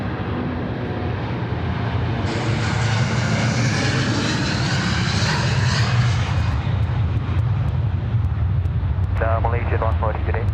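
An Air Asia airliner takes off from Sydney Airport bound for Kuala Lumpur, its engines roaring loud and steady throughout, with a rising, shifting whine as it accelerates and a brief radio-like voice near the end.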